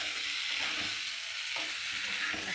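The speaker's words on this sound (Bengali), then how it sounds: "আমি এই যে মাংস কষাচ্ছি।" Meat sizzles and fries in a pan with green chilies as it is sautéed, a steady close hiss with soft stirring scrapes and no voices.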